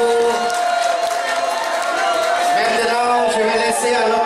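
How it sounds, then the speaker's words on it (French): A loud crowd at a New Year's Eve party cheers and whoops continuously with applause mixed in, voices rising and falling throughout. "Un applaudissement très très fort, s'il vous plaît."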